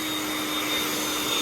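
A Bissell vacuum cleaner runs close by with a constant high-pitched motor whine and a rush of air, and no one speaks.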